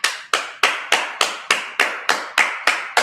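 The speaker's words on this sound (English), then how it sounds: "All right, clap it up." Congregation at a Sabbath service in Minnesota claps in unison, about ten sharp, evenly spaced claps roughly a third of a second apart, close and crisp with no voices over them.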